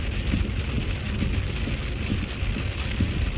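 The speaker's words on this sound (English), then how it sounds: "And right now we're at soft hail." Steady pattering of wet hail and rain drumming on a car roof and windshield, a dense continuous patter with no voices.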